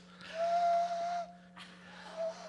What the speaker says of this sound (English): She can whistle through her hands.